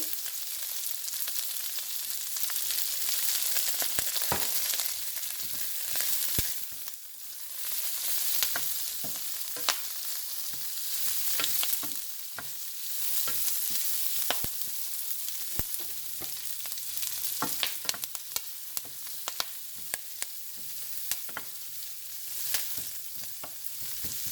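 Onions and curry leaves frying in a pan for prawn fried rice, a loud, steady close sizzle broken by frequent sharp clicks and scrapes of stirring, with no talking.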